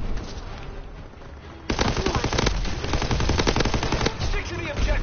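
Bursts of machine gun fire in Call of Duty WW2, a rapid rattling stream that swells loud partway through and keeps going among other battle noise, close and dense.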